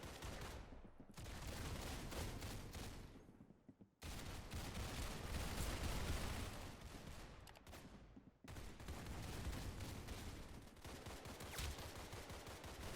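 Rapid handgun fire from the Roblox game Arsenal, dense sustained bursts of gunshots loud and close, broken by a few brief pauses, with no talking.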